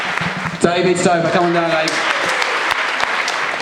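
Applause from the audience at a miniature painting competition awards ceremony, steady clapping running throughout beneath an announcer calling out a winner's name over the speakers.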